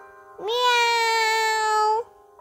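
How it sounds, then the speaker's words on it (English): A single cat gives one clear, drawn-out meow, loud and close, rising then holding steady before cutting off, with quiet around it. "Cat sound is meow,"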